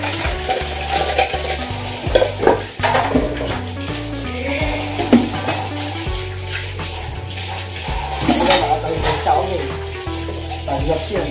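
Dishes being washed by hand at a sink: running water, clinking plates and scrubbing, with steady splashing throughout and occasional louder clatters.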